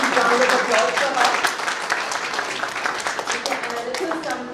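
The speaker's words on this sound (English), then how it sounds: "we really appreciate a huge round of applause for her" A crowd claps steadily in dense, continuous applause that fills the whole stretch, with voices faintly mixed in underneath.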